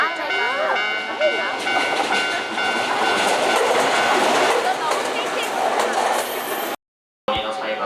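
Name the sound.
Tokyo subway train riding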